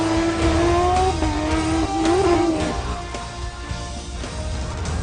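Skoda rally cars race flat out on a tarmac stage in the French asphalt rally championship, engines revving high and shifting pitch as they pass close and loud.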